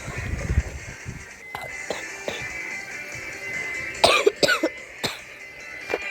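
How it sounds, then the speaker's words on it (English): A sick person coughs several times, a low rough cough near the start followed by a handful of sharper, separate coughs and throat clearing over a steady background hum. "And yes, I have a cough."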